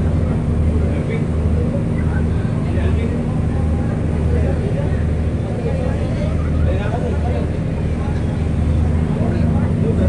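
A steady, heavy low engine drone with a constant hum from a large passenger boat running throughout, with faint voices mixed in.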